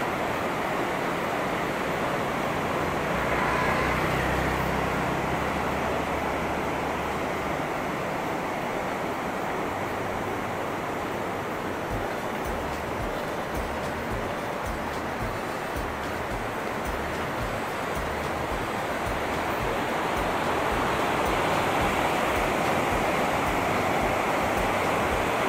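Steady, dense rushing of a mountain waterfall in the Indian Himalayas, a continuous broadband roar that holds evenly throughout with no voices.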